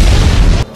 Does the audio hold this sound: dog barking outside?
no